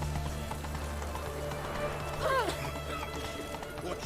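Hoofbeats of the horse Roach in the video game The Witcher, steady clip-clop under game ambience with a short whinny midway; a voice speaks briefly.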